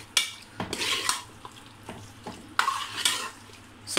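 Beef handi tikka masala is stirred in a pot, a spoon scraping and clacking against the metal in uneven strokes over a soft sizzle, close and fairly quiet.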